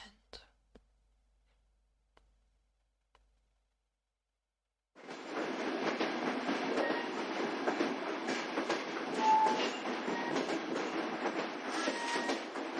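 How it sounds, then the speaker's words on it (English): A few faint clicks open, then after a pause train sounds from the video game Touhou LostWord rise abruptly into a continuous, fairly loud rumbling and rattling clatter of rail cars that carries on to the end. "I guess they're just train noises."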